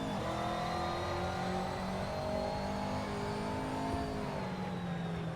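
A race car engine drones and rises in pitch while pulling out of the pit in a racing video game, a sustained mid-range whine that climbs steadily, dips briefly, then climbs again.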